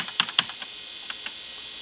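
An old Tandy 1000SX computer keyboard, left in a barn for about twenty years, gives a handful of sharp, close key clicks. Two quick presses come first, then a few lighter, sparser taps.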